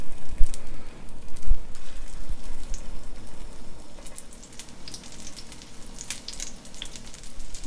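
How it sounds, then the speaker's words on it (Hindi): Vegetable kebabs fry in hot oil, giving a steady, close sizzle and crackle that runs the whole time, with a couple of sharper pops near the start and no voices. "तेल हमारा जो गर्म हो चुका है, इस तरह फ्राई करते जाएंगे।"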